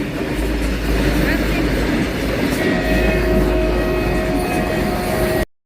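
A heavy loaded freight train rumbles past close by, a steady low roar with rattling wheels on the rails throughout, ending abruptly.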